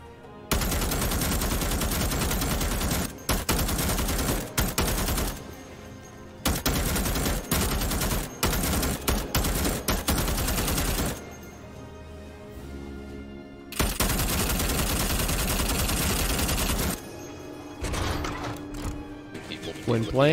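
Saw machine gun from Starship Troopers: Extermination firing in long sustained automatic bursts, loud and close, broken by brief pauses and a quieter stretch, with game sounds and a voice talking over it.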